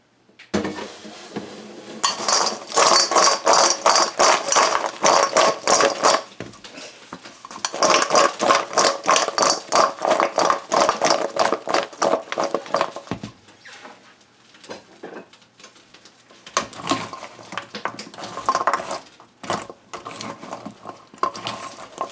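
A metal spoon scrapes and clinks against a pot while Guyanese hard mithai pieces are turned in syrup, producing loud, rapid rattling bursts with short pauses between them.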